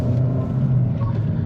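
A 2022 Honda Civic Si with a 6-speed manual gearbox drives along, its engine and road noise giving a loud, steady low rumble inside the cabin.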